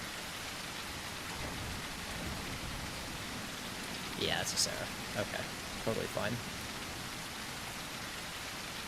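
Steady heavy rain in the video game The Isle Evrima hisses throughout, with a few short bursts of other sounds partway through while a person talks quietly over it.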